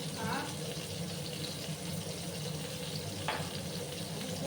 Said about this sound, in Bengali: এদিকে আমার পটলটা ভাজা থাক।